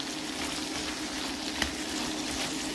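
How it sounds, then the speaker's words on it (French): Onions sizzle steadily in a pan with a soft, even crackle and one brief clink partway through. Faint and continuous, with no talking. "Je fais cuire. Les oignons vont revenir."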